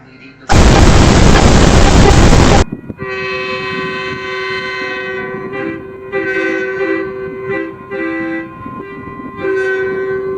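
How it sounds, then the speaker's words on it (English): A railfan blows a loud quad train horn in a single long, blaring blast of about two seconds, followed by a lingering multi-tone horn chord and fainter horn sounds near a rail yard. "decided to blow his quad horn"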